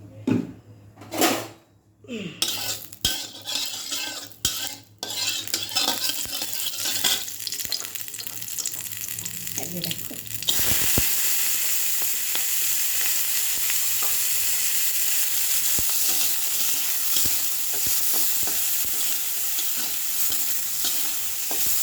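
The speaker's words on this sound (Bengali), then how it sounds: "কাঁকড়াটা কড়াইটা গরম হলে একটু ভেজে নেব" Crab fries in a little oil in a kadai and is stirred, with a few clanks and taps of utensils early on before a loud, continuous close sizzle takes over for the rest.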